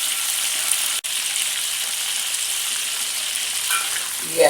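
Battered shrimp sizzle and crackle steadily in hot oil, a constant bright frying hiss with a brief clatter near the start.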